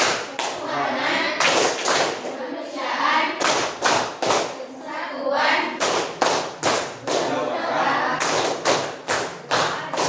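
A group of children or students performs the Tepuk Pancasila clapping chant in a classroom, sharp hand claps falling in repeated rhythmic clusters between chanted voices, loud and close throughout.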